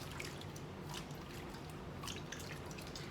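Water drips and trickles steadily while the ends of a raw Indian curly wig are washed by hand, a soft, continuous wet patter with scattered brighter drops, close and alone without talk.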